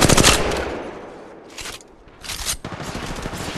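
Automatic gunfire in the mobile video game Apex Legends Mobile, loud rapid bursts of shots with a short lull in the middle before firing resumes.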